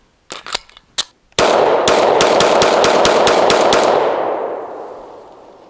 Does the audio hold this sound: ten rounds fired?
yes